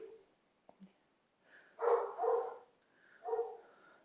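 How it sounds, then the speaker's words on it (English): A dog gives a few soft, muffled barks and whimpers at a distance, spaced out over a few quiet seconds. "And we're gonna ignore Bella barking"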